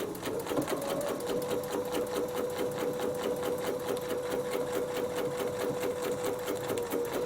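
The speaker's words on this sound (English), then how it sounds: "now I'm going to stitch this part, and I'm going to do the same thing going all the way around" A sewing machine stitches a quilt snowflake pattern, a steady fast mechanical whir with rapid needle ticking running continuously and close up, with no talk.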